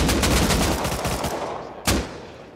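Rapid gunfire in a video game crackles in a dense, loud burst of shots, then one sharp shot stands out before the volley fades.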